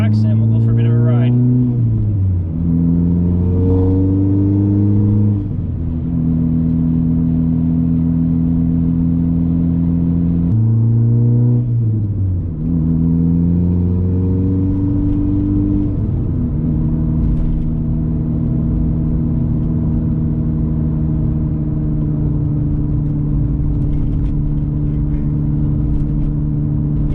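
Volkswagen GTI with a turbo-back exhaust drives along, its engine droning and rising in pitch through repeated gear pulls, loud and continuous from inside or near the car.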